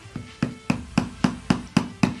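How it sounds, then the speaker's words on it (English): A hammer taps wooden sticks into apples, eight sharp, evenly spaced knocks at a steady rhythm, close and fairly loud with no talking. "I don't have the most upper body strength, so I'm gonna be using a hammer."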